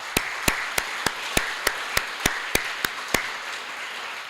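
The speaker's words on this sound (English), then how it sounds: "So I'd like you to join me in a round of applause for the Pustaka." Eleven sharp, evenly spaced claps ring out over a faint hum at an official anniversary ceremony for American Corner Sarawak, each a crisp, close single hit rather than a full burst of applause, with no talk.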